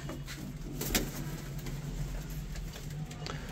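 Many Hyderabadi pigeons, a flock of young birds kept for sale in Amroha, coo softly and continuously in low rolling calls, close by and steady, with no talk.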